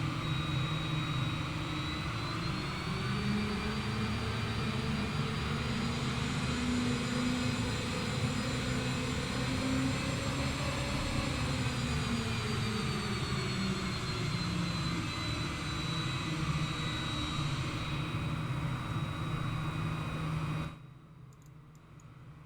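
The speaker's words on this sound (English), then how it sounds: "I'll just let you listen to some sounds as we spool up the engine now" Boeing 787 jet engines spool up in Microsoft Flight Simulator, a loud steady airliner roar with rising whine that swells and holds for about twenty seconds before cutting off abruptly; no talking.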